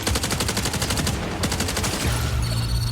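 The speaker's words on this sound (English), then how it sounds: "Man, the gun sounds sick." Rapid bursts of futuristic gunfire from the Bungie Marathon video game, loud and close, with dense repeated shots forming machine-gun-like volleys before a deeper rumbling tail.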